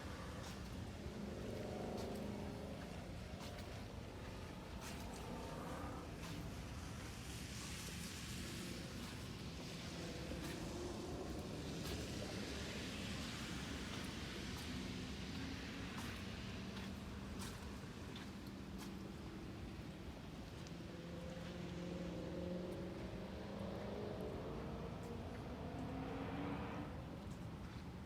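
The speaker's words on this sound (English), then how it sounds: "The sound you hear is one of the instructors out on the track checking it out." A car driven by an instructor circles a wet race track at a 2020 GT500 track event, heard from a distance as a steady engine drone with rises in revs, under a constant broadband wash.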